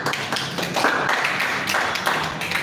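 A live audience claps for themselves, a dense, steady patter of many hands close by, lasting throughout.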